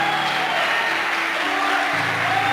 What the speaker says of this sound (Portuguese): Tem alguém para aplaudir?